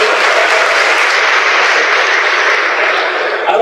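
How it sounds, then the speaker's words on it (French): A large audience applauds loudly and steadily at a public performance in front of the prime minister, a dense, continuous wash of clapping that holds for several seconds with no voices standing out. "Applaudissez pour vous-même,"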